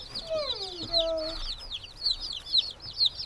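Baby chicks and chickens cluck and chatter in a steady, bird-filled stream, with a few longer, lower calls woven through early on.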